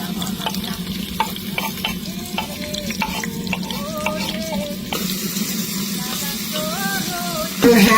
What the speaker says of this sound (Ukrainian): Ставимо до золотистої такої скориночки цибульку.